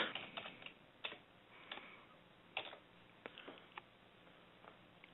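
Quiet typing on a computer keyboard, irregular soft clicks of keys pressed in short bursts, close but faint, with no talking.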